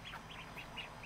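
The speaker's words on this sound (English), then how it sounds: "Stupid ducks are standing on top of each other." Several ducks crowded together quack in a quick series of short, nasal calls, faint and fairly distant, with no voices over them.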